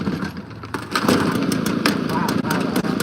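A Honda lawn mower engine catches and starts with a rough, throbbing idle after priming, running close and steady beneath a man's speech.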